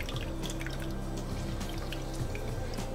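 Lemon juice drips from freshly squeezed lemons during ceviche preparation, a steady patter of small drips over a low background hum, with no one speaking.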